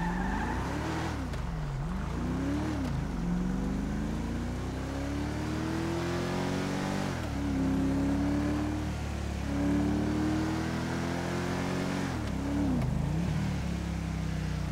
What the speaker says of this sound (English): Let me turn down the sounds just a little bit, I think, of the engine.